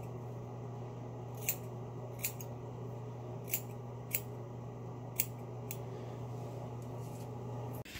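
Scissors snip through hair in a quiet room, giving about seven separate, crisp cuts spaced a second or so apart over a steady low hum, with no talking.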